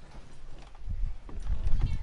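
Horse hooves clop in Red Dead Redemption 2, irregular and close, with the beats growing louder toward the end under a soft game background.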